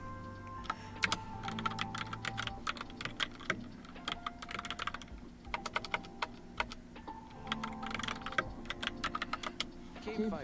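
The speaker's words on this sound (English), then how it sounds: "Helps if you get your fingers right on the keyboard." Rapid typing on a computer keyboard, a dense run of crisp, close key clicks in uneven bursts with short pauses, over a steady low background hum during a live stream.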